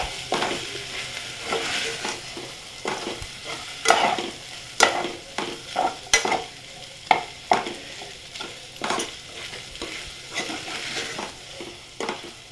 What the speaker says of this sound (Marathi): साबुदाणे चांगले परतून घ्यायचे